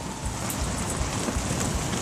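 Steady rain and wind beat against a Quechua Arpenaz T5.2 XL camping tent, a dense continuous hiss with scattered louder drop impacts and no voices, loud and close.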